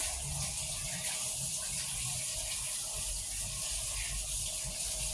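Tap water runs steadily into a sink in a home kitchen, a continuous even splashing gush that stays at the same level throughout, with no talk over it.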